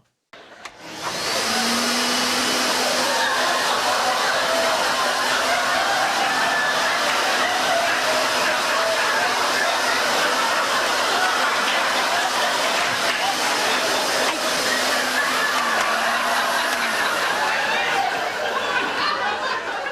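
A vacuum cleaner runs in a TV sitcom scene, switching on and droning loudly and steadily for many seconds, with faint audience laughter and chatter beneath.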